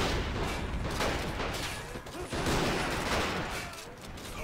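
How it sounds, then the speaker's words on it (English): Dense gunfire crackles nonstop between toy soldiers in the Army Men of War video game, a loud wash of rapid overlapping shots and distant booms with no clear gaps. "Good exchange of fire right there."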